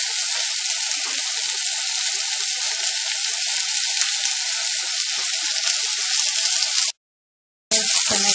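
Food fries in a pan with olive oil, a loud continuous sizzle that crackles near and steady, cuts out briefly to silence, then resumes.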